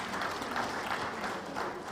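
Distant, soft applause from an audience at an institute event, a steady wash of clapping heard faintly throughout.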